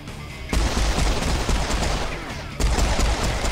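Dense, sustained gunfire in the first-person shooter Serious Sam 4, loud and close, with rapid overlapping shots throughout that intensify in two heavy bursts.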